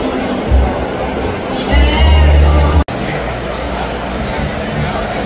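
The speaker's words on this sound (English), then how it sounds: "Crowd's starting to pile in." Arena crowd murmur fills the space before a concert at Bridgestone Arena in Nashville, a steady, dense babble of many distant voices with a brief low rumble, continuous throughout.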